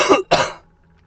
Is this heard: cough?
yes